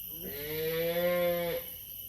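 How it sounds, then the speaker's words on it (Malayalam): A cow gives a single long, loud moo that rises, holds steady and then cuts off, heard up close against a quiet background with a faint high electronic whine. "പശു കരയുന്നുണ്ട്"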